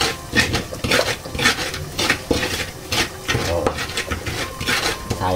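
Fried potatoes being mashed in a pan, with repeated scraping, stirring and clinking of a utensil against the pan at a close, steady pace.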